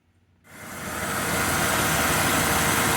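A 1996 Ford F150 engine starts up and runs with the AC compressor spinning, a loud, steady broadband mechanical roar that builds quickly then holds constant, close and without voices.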